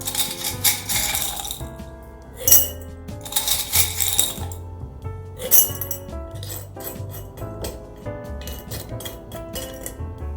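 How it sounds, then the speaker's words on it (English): Small rocks clatter and clink into a glass container as they are added with a spoon, a series of bright rattling bursts and scattered ticks, some louder pours among lighter taps. "You can use your spoon or your hands to add rocks to the bottom of your container."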